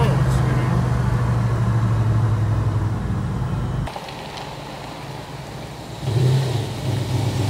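A car engine fitted with an Edelbrock AVS2 carburetor pulls hard at wide-open throttle with a loud rising drone. It falls quieter partway through, then surges again near the end.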